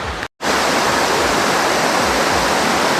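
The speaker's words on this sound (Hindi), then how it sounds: "बहुत सुंदर प्यारा झरना है ये भी।" Tapovan waterfall roars as a loud, steady broadband wash of falling water, close and continuous, with a brief dropout near the start and no voices.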